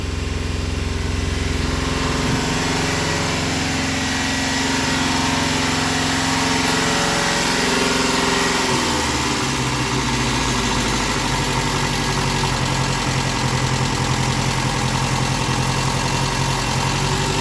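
A car engine idles loudly and steadily, then its pitch and roar shift as a canister wedged against the gas pedal holds it revving, continuous and close throughout with no talk.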